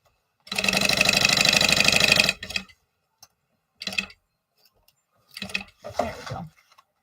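A sewing machine stitching a fabric lunchbox, with one fast two-second run of buzzing stitches followed by short bursts and clicks as the fabric is repositioned, close and loud with no speech.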